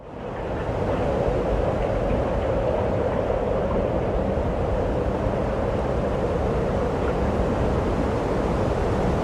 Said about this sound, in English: We just had a gust of 16 miles per hour.